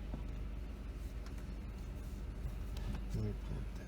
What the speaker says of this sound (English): Well, that car's going through it.